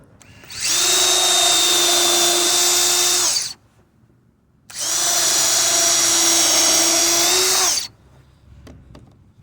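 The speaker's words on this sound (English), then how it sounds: "drill in action. It works fairly well." A Ridgid subcompact cordless drill driver driving screws whirs in two loud bursts of about three seconds each, separated by a short pause, followed by a few faint clicks.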